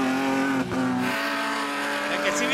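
GT1 and GT2 race cars circuit the track during a yellow-flag period at a C I P 2019 heat, engines droning steadily with a shifting pitch, while commentators talk over the sound throughout.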